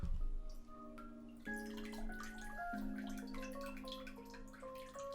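Water draining and trickling out of a UE Boom 2 Bluetooth speaker after submersion, with quiet drips and gurgles close by, irregular and faint.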